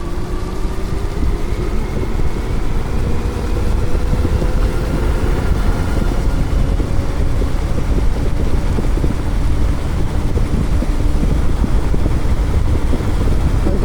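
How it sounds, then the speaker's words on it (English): Steady broadband wind roar buffets the microphone on an e-bike during a Grizzly versus Graffiti X race, loud and continuous throughout, with a faint rising motor whine threading beneath. "I'm going into a pretty good wind."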